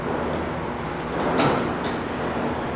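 Older General hydraulic elevator doors in a hotel slide slowly with a steady low rumble, then two brief scraping swells as the panels finish moving.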